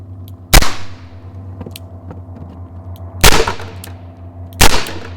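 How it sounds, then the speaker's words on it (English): Revolver firing wax bullets at empty plastic milk-jug targets outdoors: three sharp, loud cracks spaced a few seconds apart, each with a brief ringing decay over a steady low hum. "There's the gun we're going to use, and got my earplugs in, and see what happens with the wax bullets on these empty targets here."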